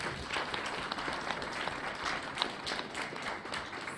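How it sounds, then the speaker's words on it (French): Audience applause for the president at a December 2024 association event, a steady, fairly faint wash of clapping sustained throughout. "Je voudrais vraiment qu'on l'applaudisse très très fort."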